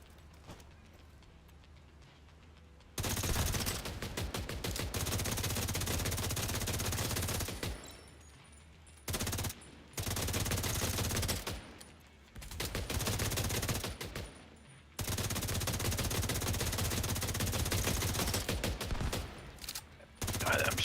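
Sustained automatic fire from The Division 2 blasts in long, loud, dense bursts separated by brief pauses, close and continuous over several stretches of shooting.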